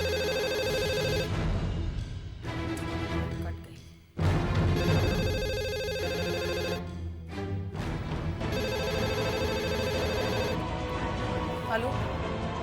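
A telephone rings in repeated loud electronic bursts, close by, with brief gaps between the rings.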